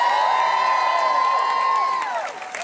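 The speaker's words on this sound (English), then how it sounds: "Let's give them a round of applause." Large outdoor crowd at a Houston-area protest rally cheers and whoops for law enforcement, with a sustained whistle-like tone and scattered shouts fading after a couple of seconds.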